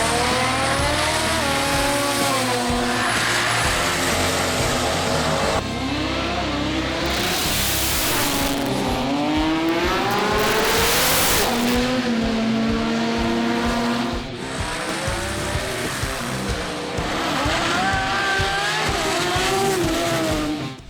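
Race cars and street cars roar at a hot-weather drag racing event in Sydney, loud engines revving and accelerating past with rising pitch, plus bursts of tire noise, continuous and close throughout.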